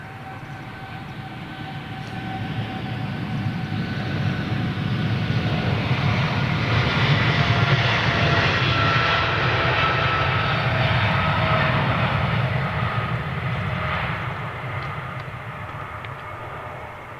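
A Turkish Airlines jet makes a derated takeoff at London Heathrow, its engine roar swelling steadily to a loud, sustained rumble before slowly easing off as it departs.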